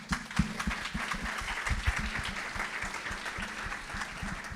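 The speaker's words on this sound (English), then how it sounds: "we give you a big applause" An audience applauds after a talk at a Persian Tech Network event, a dense, steady patter of clapping from a crowd filling the room for several seconds.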